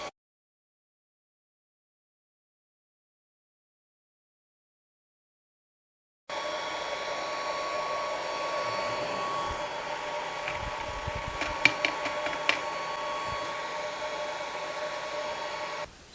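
Longer B1 30W laser cutting 3mm birch plywood: after several seconds of silence, a steady mechanical whir of fan and motor runs on, with a few brief clicks near the end.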